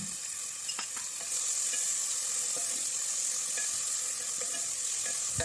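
Onions frying in a little oil in a pot for a chana dal dish, a steady bright sizzle throughout with occasional soft stirring clicks.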